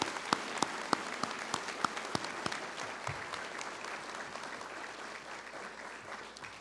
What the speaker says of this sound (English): What about a round of applause for Colleen for doing just a wonderful job?